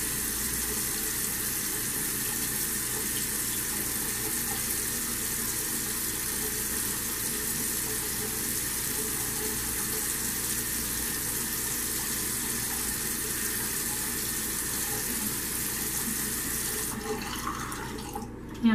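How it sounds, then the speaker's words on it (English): Water runs steadily from a sink tap while a face is rinsed, a constant close hiss lasting throughout before it cuts off near the end. "I'm just making sure that I rinse that off really well"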